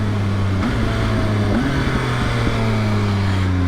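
Onboard engine of a 2020 Triumph Speed Triple RS motorcycle ridden through bends on the road, a steady loud drone with pitch dips and rises as the rider rolls off and back on the throttle, wind noise underneath.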